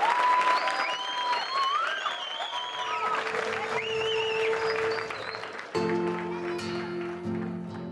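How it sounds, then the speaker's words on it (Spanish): An audience claps after a talk, a broad wash of applause mixed with music and voices, with whistled or sung tones on top and a sharp shift partway through. "aplauso."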